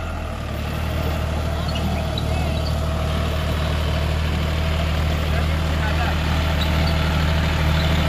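A John Deere 5105 tractor fitted with a 7-foot rotavator, its engine running at a steady loud drone close by, with an unbroken low hum and no pauses.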